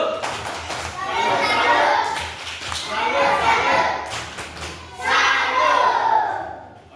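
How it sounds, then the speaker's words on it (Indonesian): Children in an Indonesian classroom give a rhythmic group clap in bursts, loud and close, with young voices shouting along over the clapping. "itu tepuk salut untuk Julia. Tepuk salut."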